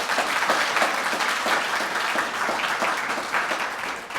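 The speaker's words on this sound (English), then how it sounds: "I think that by itself deserves a round of applause" An audience claps steadily and warmly at a Hyundai Hope on Wheels pediatric cancer charity event, a dense sustained round of applause that fades slightly at the end.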